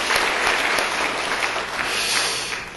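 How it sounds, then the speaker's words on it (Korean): A church congregation applauds parents wearing red carnations, with steady, dense clapping from a large crowd that continues evenly throughout without speech. "따뜻한 사랑의 박수를 한번 올려드리도록 하겠습니다"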